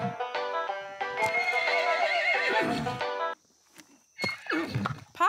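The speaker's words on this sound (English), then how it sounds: "And this is our stable, where we keep the horses" A horse neighs loudly in a stable in a long, wavering whinny, followed by a pause and softer snorts and shuffling hooves nearby.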